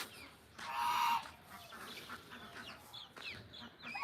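A raja hans (king goose) honks among clucking chickens on a foggy morning, a few faint, distant honks and calls over a low, busy poultry-yard background.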